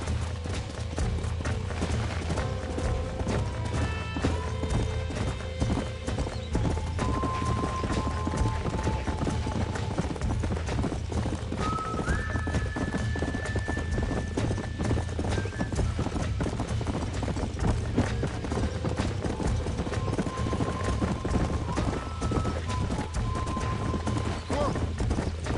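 Horses gallop in Red Dead Redemption, a dense, continuous drumming of hooves with an occasional whinny, steady and fairly close throughout while game music plays underneath.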